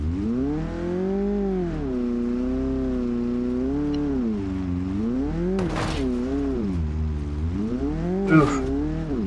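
A video-game car in BeamNG.drive with a failed exhaust roars loudly, its engine drone rising and falling in smooth revving swells, with two sharp bursts of scraping or impact noise cutting in partway through.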